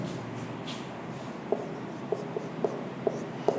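A pen writes a math answer by hand on paper, a faint scratchy rubbing with a series of small sharp taps as strokes and dots land, close and quiet with no voices.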